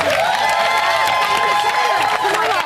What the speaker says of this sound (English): give them a round of applause, guys.